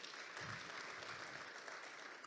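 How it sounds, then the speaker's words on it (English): Audience applause at the launch of Nigeria's HIV Trust Fund, a steady, fairly faint wash of clapping from a room of people with no break over two seconds. "Could we just give her a round of applause again,"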